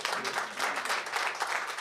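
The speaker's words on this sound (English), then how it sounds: "Give him a round of applause." A brief, dense round of audience applause at a book launch, steady and moderately loud throughout.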